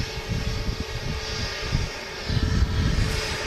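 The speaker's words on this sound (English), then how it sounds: "EasyJet A320 Neo just touched down as I was reading them out" An EasyJet Airbus A320neo touches down at Manchester Airport, its engines a continuous broad roar with low rumbling swells and a brief rise near the end, nobody speaking.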